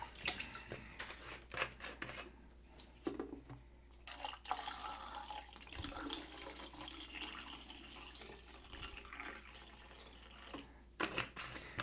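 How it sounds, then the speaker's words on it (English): Water draining from a color film developing tank in irregular gurgles and splashes, with drips and brief rushes of liquid, fairly quiet and close. "I'm going to drain the water off"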